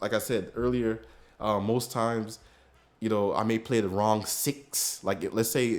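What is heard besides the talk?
No everyday noises stand out.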